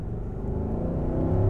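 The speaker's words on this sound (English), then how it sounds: "Okay, so how quick does it go in reverse?" A 2024 Nissan Patrol V8 SUV accelerates in reverse, its engine building from a low rumble into a rising, steady drone heard close and alone.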